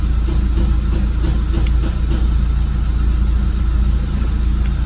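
A Nissan Grand Livina engine idles, a loud, steady low rumble close by with no real change in pitch and no voices.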